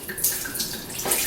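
Wine pours from a bottle in a short, steady liquid gurgle close by, with no talk over it.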